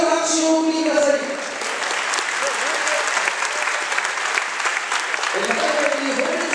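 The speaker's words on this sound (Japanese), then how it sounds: "全国のボクシングファンの皆様、メイウェザー両方選手に最上級の拍手をお送りください。" A boxing crowd applauds the fighters in a full-round bout, a loud, sustained wash of clapping filling the hall, with an announcer's voice heard briefly at the start and again near the end.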